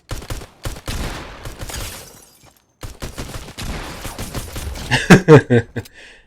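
Pistol gunfire in Fortnite, a series of sharp separate shots in uneven bursts with short gaps, ending in a quick cluster of louder cracks.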